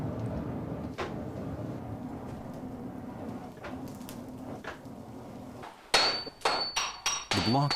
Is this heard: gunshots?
no